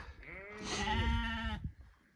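A sheep in a grassy field lets out one long, wavering bleat, loud and close, trailing off into quiet outdoor ambience.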